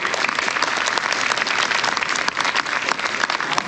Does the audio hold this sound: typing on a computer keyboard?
no